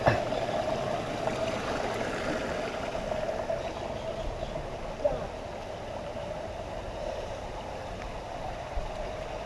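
Flowing water of the Bitbit River, a steady broadband rush that stays even and continuous throughout, with a faint murmur of voices in the background.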